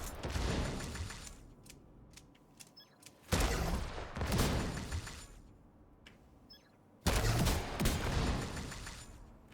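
Two loud, close gunshots land several seconds apart, each a sharp blast that rings out and decays, with faint clicks and mechanical handling sounds between them.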